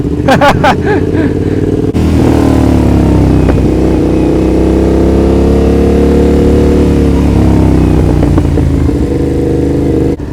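A Yamaha R7 sport motorcycle's exhaust drones loudly and steadily while being ridden on a group ride, with a brief rev at the start and a sustained mid-pitched engine note throughout.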